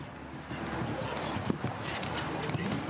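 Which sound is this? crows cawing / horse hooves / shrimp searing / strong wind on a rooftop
horse hooves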